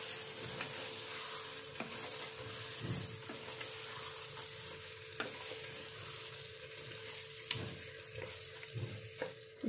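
Chicken being stirred and mixed in a frying pan for a spicy dhaba-style bhuna masala: a steady soft sizzle of frying with intermittent scraping and clinking of the spoon against the pan, fairly quiet throughout.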